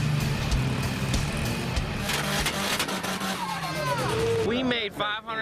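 Tuned Mitsubishi Evo cars racing at night on the closed Las Vegas Strip, engine roar and tire noise rising and sweeping past, ending in a rising engine whine, loud under a voice talking.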